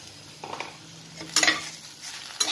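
A spoon stirs spiced egg curry in a pan, making a few close scraping and clinking strokes over a soft, low sizzle. The burst is short, with no voices.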